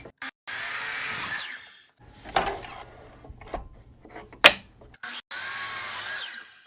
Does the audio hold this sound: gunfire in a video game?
no